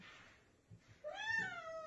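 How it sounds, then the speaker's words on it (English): A single drawn-out cat meow, close and clear, rising then falling in pitch, preceded by a couple of faint soft thumps. "Are you gonna meow more?"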